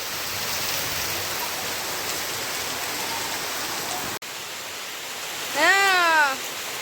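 Steady rain hisses on a home in Odisha on Akshaya Tritiya, fairly loud and even for four seconds, then drops after a brief break as a short rising-and-falling tonal call sounds over softer rain.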